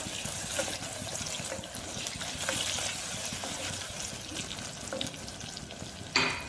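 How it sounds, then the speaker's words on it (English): A green chili sautéing in hot oil in a pan for mutton pulao, a steady close sizzle with faint stirring scrapes, ending with a sharper clatter of utensil against the pan. "Add 1 green chili. Just saute it a little bit."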